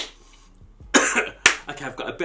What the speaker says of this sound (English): I've got a bit of a cough